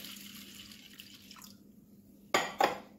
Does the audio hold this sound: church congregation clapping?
no